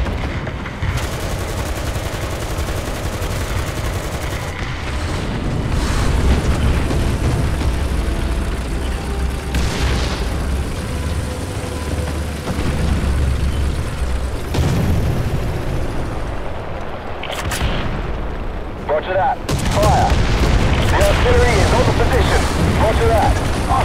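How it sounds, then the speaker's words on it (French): Artillery strikes called onto enemy positions in War Thunder, a tank combat game, heard as dense, continuous booming explosions and gunfire that rumble loudly throughout and build toward the end. "je commande des tirs d'artillerie sur les positions"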